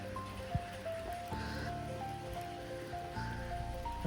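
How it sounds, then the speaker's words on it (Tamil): Rain falls steadily through Cairn Hill Reserve Forest in Ooty, a soft continuous patter and hiss with faint tonal sounds running underneath and no voices. "சமத்தியாக மழை பெய்யுதுங்க"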